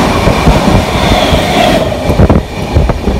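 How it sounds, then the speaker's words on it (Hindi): The Poorva Express 12304 rolls on again after a station stop in India, with a loud, steady rumble and rhythmic clatter of the wheels heard close from inside the carriage. "जो कि अभी ट्रेन चल पड़ी है दोबारा।"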